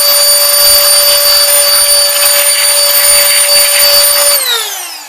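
Canless Air O2 Hurricane electric air duster blows steadily at close range with a loud, high-pitched motorized whine, holding even for about four seconds before spinning down and fading as the motor slows.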